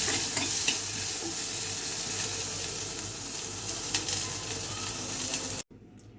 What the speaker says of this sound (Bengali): টমেটো ভর্তা করব, তার জন্য ঝাল ভেজে নিচ্ছি।